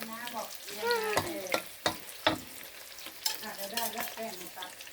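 Orchid flowers coated in batter fry in hot oil with a crackling sizzle, punctuated by sharp stirring scrapes and clinks, while a voice speaks softly nearby.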